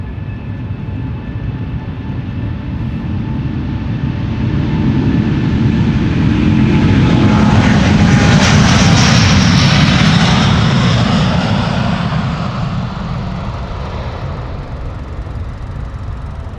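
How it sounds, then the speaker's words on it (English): A Delta Airlines jet departing Amsterdam Schiphol Airport, its engine roar swelling from a distant rumble to a loud, close peak midway before fading again, with no voices. "Delta Airlines Flight 73 going."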